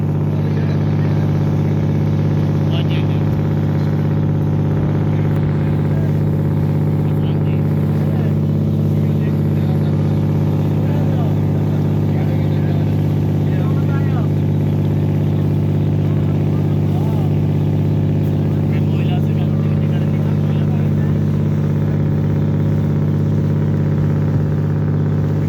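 A crowded passenger launch on a river trip from Betua ghat toward Monpura in Bhola hums with a steady, loud low engine drone throughout, with faint voices murmuring under it.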